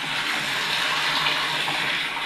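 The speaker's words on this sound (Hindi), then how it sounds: "मोटर चला दी है, पानी भी आ रहा है।" Water from a small motor pump pours steadily into a newly fitted tank at a village construction site, a loud, close, continuous rushing gush with no talking.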